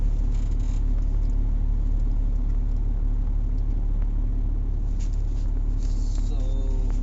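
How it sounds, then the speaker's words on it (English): A truck engine idles at a steady, loud low rumble that continues unbroken throughout, with people talking faintly over the constant drone. "We need to shut the truck off first."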